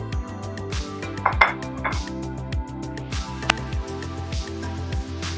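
A clean plate set down on a kitchen counter gives a few close ceramic clinks, with a brighter knock around the middle, over steady low kitchen hum and faint clatter.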